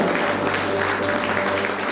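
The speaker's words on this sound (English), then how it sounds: "Let's give them a big round of applause" Applause from the audience at a school annual day event, a dense, continuous burst of clapping heard close and loud throughout, with a faint steady hum beneath.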